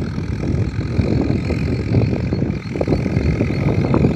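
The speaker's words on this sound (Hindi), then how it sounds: "अपने खेत में जुताई स्टार्ट हो गई है, लगा हुआ ट्रैक्टर वाला" A farm tractor ploughing a harvested field in India, its engine a steady close rumble throughout with broadband wind-like noise, continuous and fairly loud with no talk.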